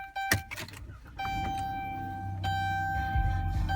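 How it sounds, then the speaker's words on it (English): Inside a 2015 Dodge Grand Caravan SXT, a few clicks and rattles of a key going into the ignition, then chimes and a steady electrical hum as the system powers on, with some low rumble toward the end. "I adjust and put the key in the ignition"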